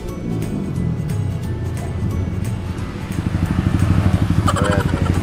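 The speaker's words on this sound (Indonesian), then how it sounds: "ada motor mau lewat" A motorcycle passes along a street near a roadside food stall. A low, pulsing engine rumble grows louder and rougher toward the end as the bike comes closer.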